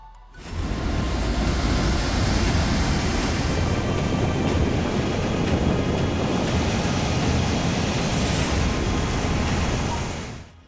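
Water from the Tungabhadra dam reservoir roars out through the open gates in a loud, steady rushing torrent that holds constant for about ten seconds before easing off.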